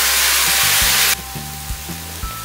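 Tomatoes cooking down with onions in a pan for dry kadai paneer give off a loud, broad sizzle that cuts off abruptly partway through, leaving a quieter crackle with low clunks and thumps.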